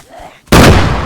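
A loud, sudden blast from a detonated charge in a video game, set in a stadium during a bear hunt. A faint lead-in gives way to a sharp broadband boom that holds briefly and dominates the moment.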